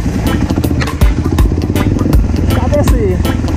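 A trail motorcycle accelerates hard down a steep hill at a Christmas off-road trail ride, its engine roaring loud and close with rhythmic pulsing and clattering, while someone talks over it.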